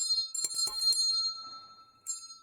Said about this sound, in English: when that bell rings